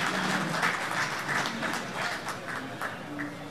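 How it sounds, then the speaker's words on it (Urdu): An audience at a live gathering applauds steadily, a dense wash of many hands clapping that holds at an even level throughout, with a faint voice underneath. "تالیاں"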